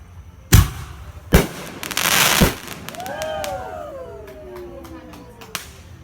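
Fireworks set off at night near a house party: three sharp, loud bangs come first, then whistling crackles trail away in the distance.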